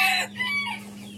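Young Golden and Silver Sebright chickens, about three months old, clucking on a farm. It is a short, close burst of bird calls that fades quickly into quieter background.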